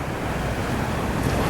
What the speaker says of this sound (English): The waves are splashing.